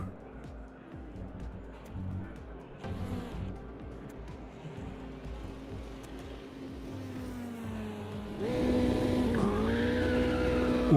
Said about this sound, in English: Warming up my tyres.